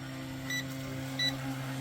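Two short electronic beeps from an RC race boat controller sound about a second apart over a steady low hum, at a lake.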